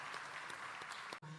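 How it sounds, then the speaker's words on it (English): Audience at a university education graduation ceremony gives a round of applause, a steady wash of many hands clapping that cuts off sharply near the end. "Shall we give them some encouragement with a big round of applause?"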